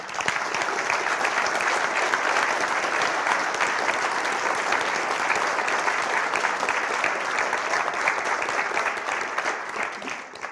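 A large audience at a LibrePlanet 2016 conference keynote applauding steadily, dense clapping that holds at an even level throughout, tapering only slightly at the end.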